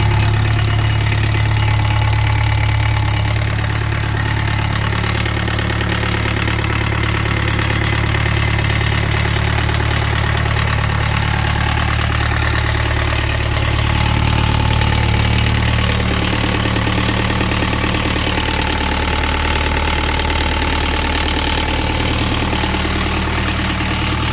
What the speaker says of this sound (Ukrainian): Все, заводиться з півобороту.